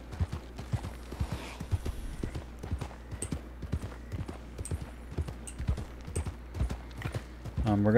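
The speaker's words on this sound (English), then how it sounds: "Riding this big old chunky horse." Horse hooves clip-clop at a steady walking rhythm in a Red Dead Redemption 2 roleplay game, close and crisp, with occasional faint sounds in the background.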